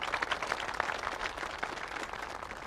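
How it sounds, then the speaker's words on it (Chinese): A gathered group of villagers claps warmly to welcome a visiting deputy town mayor, a fairly soft, continuous patter of many hands with scattered sharper claps. "咱们用最热烈的掌声欢迎领导的到来"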